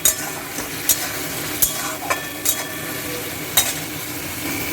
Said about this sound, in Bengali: এই মশলাটাকে একটু ভালো করে কষিয়ে নেব।